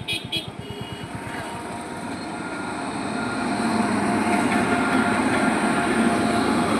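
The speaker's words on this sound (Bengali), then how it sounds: "ট্রেনের শব্দটা পেয়েই কিন্তু আমরা এখানে দাঁড়িয়েছি ট্রেন দেখার জন্য।" A passenger train bound from Lalgola to Sealdah rolls past outdoors, opening with rhythmic wheel clatter and building into a loud, steady rumble that swells and holds as it passes close by.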